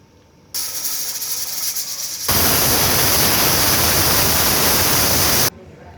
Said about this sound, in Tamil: குக்கர் விசில் முடிஞ்சு ஒரு விசில் ஓப்பன் பண்ணியாச்சு.